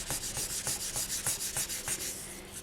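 Foil rubbed vigorously along the edges of polymer clay gives a steady series of close, dry scratchy strokes in an even rhythm of about two per second, easing off at the end.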